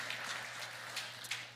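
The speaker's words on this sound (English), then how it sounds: "so you have to make another clap." Brief, soft clapping from a small group at a concert celebration, a short patter of hands over a low steady hum.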